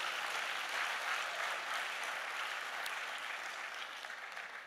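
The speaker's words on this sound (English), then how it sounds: "I want you to give a round of applause to him." Audience applause fills a hall at a community gathering, steady broad clapping for nearly five seconds that eases slightly toward the end, with no voices over it.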